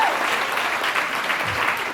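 Audience applause at an open mic event, a dense, steady roar of many hands clapping, loud and continuous throughout with a faint voice underneath.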